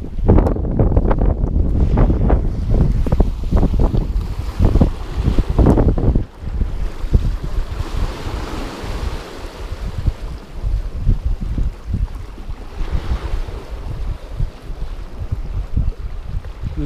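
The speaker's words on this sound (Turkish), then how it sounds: "Rüzgar arttıkça arttı." Strong wind roars across the microphone on a fishing boat at sea during rocky-shore tuna fishing, a steady loud buffeting with gusty surges, water and hull noise mixed beneath and no talking.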